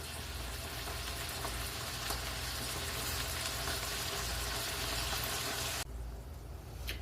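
Ground beef frying in a skillet gives a steady, dense sizzle and crackle for about six seconds, then drops to a quieter, duller simmer near the end, with no voices.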